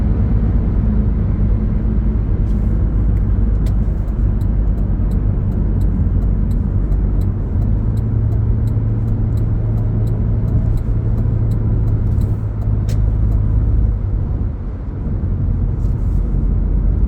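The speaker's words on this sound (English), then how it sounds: "Garbage truck right in front of me" Loud, constant low engine rumble of heavy traffic close by on the Jackie Robinson Parkway in Queens, New York, with a garbage truck droning steadily ahead and faint ticking above.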